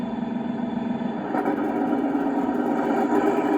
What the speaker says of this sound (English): And I'm increasing the throttle, and you hear the engine noise increase.